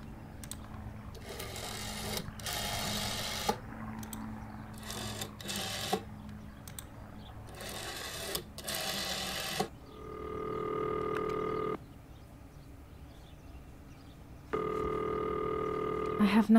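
A phone call in Martha is Dead: rapid clicking dial sounds in bursts, then steady ringing tones that start, pause and resume, with a voice speaking in the background.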